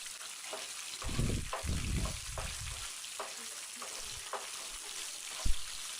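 Green chillies and urad dal fry in hot oil for tamarind rice, a soft steady sizzle broken by a few bursts of scraping as the pan is stirred, fairly quiet and with no talk.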